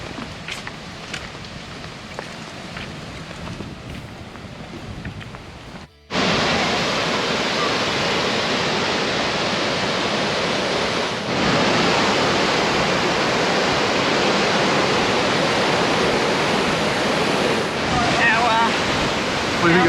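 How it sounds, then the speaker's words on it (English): Fruit Bat Falls in Cape York pours in a steady, dense roar of falling water, loud and close, with a brief dip before the rushing wash swells and holds unbroken. "What do you think of Fruitbat Falls, Al?"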